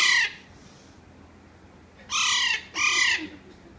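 A pet parrot gives three loud, harsh squawks at close range, one at the start and then two in quick succession after a pause, over a quiet room background.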